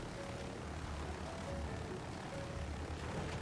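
A helicopter hovers in the video game BRM5, a steady rotor and engine drone with a low rhythmic thump, holding level without change.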